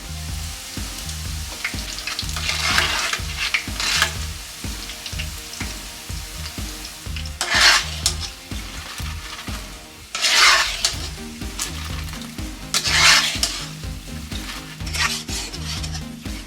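Cubes of Big Mac bun fry in a pan into crispy croutons, steady sizzling broken up by repeated stirring scrapes and clinks of a utensil against the pan, close and continuous with no talking.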